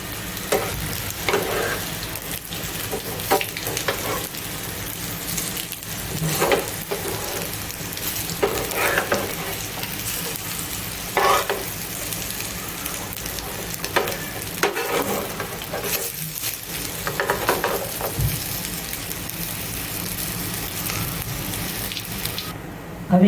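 A Kathiyawadi-style taro (arvi) leaf snack cooking in a pan, with a steady low sizzle broken by recurring scrapes as the pieces are turned over, fairly quiet and close throughout.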